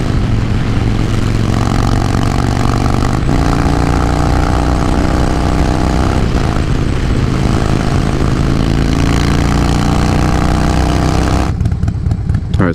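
Harley-Davidson Dyna Low Rider S engine drones steadily and loudly while riding, pitch climbing as it speeds up, with heavy wind rush throughout, then easing at the end.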